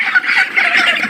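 Broiler chickens on a poultry farm, about 32 days old, clucking as a busy flock in a continuous overlapping chorus of calls, close and fairly loud, with no talking.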